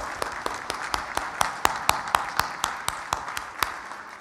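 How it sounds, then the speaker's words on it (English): A church congregation at a Sunday worship service claps in a quick, fairly even rhythm, individual hand claps standing out clearly over a thinner background of applause. "Let's give them a round of applause this morning"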